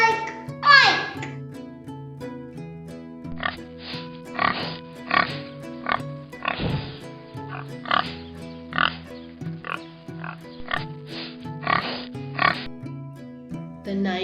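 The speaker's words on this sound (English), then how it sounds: "The pig sounds as oink, oink, oink." A pig oinks in a series of short, separate grunts, repeated steadily over a soft musical backing in an animal sounds lesson for children.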